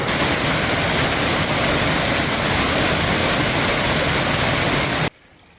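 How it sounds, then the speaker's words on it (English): A constant, powerful roar of falling water fills the space, broadband and unbroken, then cuts off abruptly near the end. "we finally found a legit waterfall"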